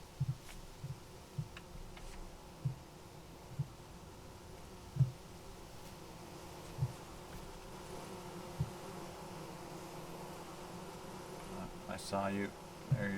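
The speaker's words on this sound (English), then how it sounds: "There's little bees. There's the hive." Small bees hum faintly around a large, well-populated hive in Vintage Story, a soft, steady drone broken by light periodic ticks, with a voice talking briefly over it.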